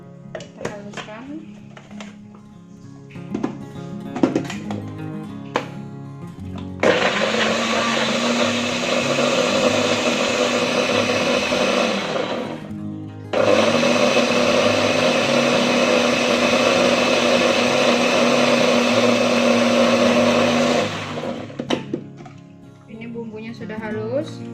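An electric blender grinding spices with half a teaspoon of coriander: two long bursts of steady whirring motor noise, each several seconds, separated by a short stop, with clinks and handling sounds before and after.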